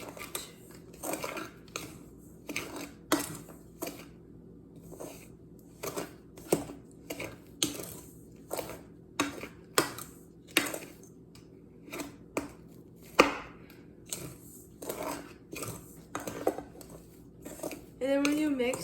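Utensil scraping and clinking against a bowl while gluten-free pumpkin bread batter is mixed, a steady run of sharp, close taps and knocks repeating through the whole stretch.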